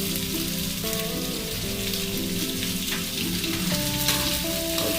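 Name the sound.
potatoes with salt frying and being stirred in a pan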